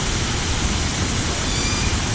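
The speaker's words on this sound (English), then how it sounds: "waterfalls, very nice" The outdoor waterfall at the Flamingo hotel in Las Vegas rushes as a steady, fairly soft broadband hiss of falling water, unbroken for the whole moment with no voices.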